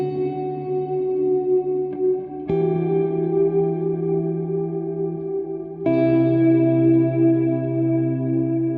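Electric guitar run through a GFI System Specular Tempest reverb pedal, sustained chords ringing with lush, swelling wet reverb tails, a new chord struck every few seconds, loud and alone with no talk.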